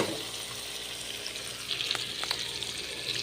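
Bitter gourd (ampalaya) tumbled into a pan of sautéed aromatics sets off a steady, close frying sizzle, with a few brief scraping stir clicks near the end.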